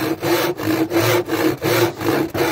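A handsaw rasps through timber on a wobbly workbench in regular one-handed strokes, loud and nearby, with each stroke separated by a brief gap.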